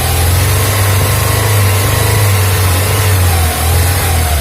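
A Honda Civic Genio engine, freshly assembled and recently running rough, revving loudly and close, with a steady mid-pitched drone and a slight dip near the end.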